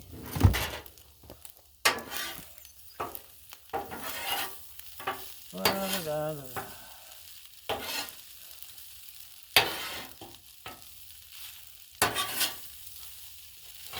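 Shrimp fried rice sizzling on a Blackstone griddle as a spatula stirs and scrapes it, with bursts of frying hiss, repeated metallic clacks and scraping strokes at an irregular pace, close by.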